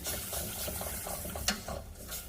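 Whisking and stirring as room-temperature whole milk is worked into a thickening lasagna sauce, a continuous close wet swishing with faint bubbling and one brief sharper clink.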